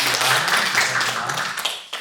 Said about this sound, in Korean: 일어나면 우리 환영의 박수